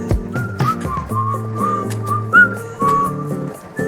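Eerie whistling from a song rises and slides through a sustained melodic line over a low synth and bass backing, loud and clear with no talk.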